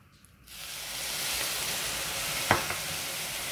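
Almonds, sugar, butter and milk over high heat begin a sudden, steady hissing sizzle after a quiet start, with one brief scrape of stirring midway.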